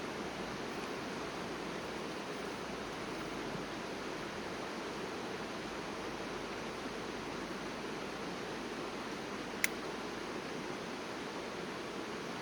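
A creek flows steadily in the distance, a soft and even wash of water that runs unbroken throughout with no voices.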